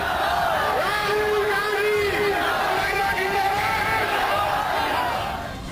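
A dense, unruly crowd at a political election rally in Meerut roars and yells without pause, loud and close throughout and easing slightly at the end.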